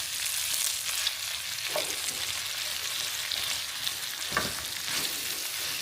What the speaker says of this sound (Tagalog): pag malambot na yung kamatis, saka natin lagay yung bawang sibuyas and then yung gulay